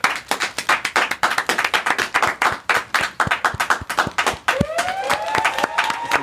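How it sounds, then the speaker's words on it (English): Several people clap hard and fast in a contest to see who can keep clapping the longest, sharp dense claps close by with a rising whistle-like tone near the end. "It's a challenge to see who can clap the longest for."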